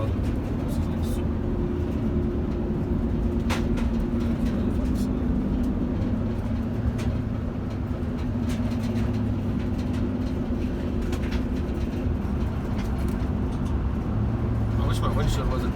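A turbo diesel van cruising along a road through Colorado, its engine and tire rumble a steady, constant drone with road noise throughout, heard from inside the cab.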